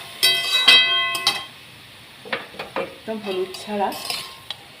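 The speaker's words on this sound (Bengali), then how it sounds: "এটাকে ভালো করে নেড়ে চেড়ে ভেজে নেব।" Chicken stirred and fried in a pan, a spoon scraping and clinking against the metal in separate bursts over a soft sizzle, while a voice speaks briefly at the start.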